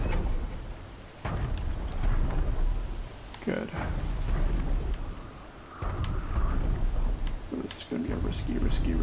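A dust storm sweeps across the landscape in the video game Horizon Zero Dawn, with steady roaring wind and low rumbling thunder swells filling the scene, broken by brief dips and faint sharp game effects.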